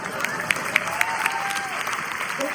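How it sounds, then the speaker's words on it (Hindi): Applause from an audience at a gathering, a continuous dense wash of many hands clapping with a few sharper claps standing out near the start, moderately loud and steady. "मैं चाहता हूं कि एक बार जोरदार ताली होनी चाहिए।"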